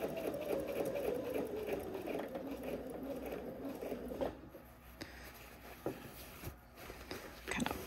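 A sewing machine stitches the facing and lining of a Cashmerette Canton garment. A steady, close mechanical whir runs for about four seconds, then gives way to quieter handling noises and faint knocks.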